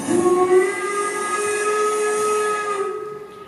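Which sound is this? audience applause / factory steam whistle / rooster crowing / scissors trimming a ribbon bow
factory steam whistle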